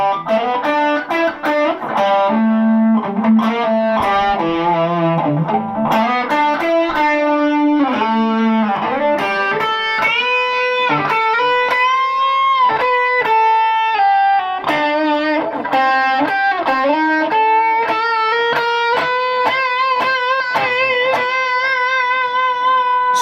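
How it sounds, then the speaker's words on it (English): Electric guitar through a custom distortion pedal resembling a Boss DS-1 plays sustained, saturated chords and lead notes, loud and alone, with bends and shifting pitches. "Now this looks like a standard Boss DS1 distortion, but this is actually a custom pedal"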